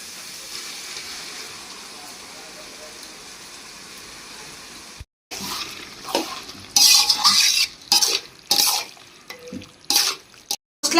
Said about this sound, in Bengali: এবার ম্যারিনেট করা মাংসটা এর মধ্যে ঢেলে দিচ্ছি।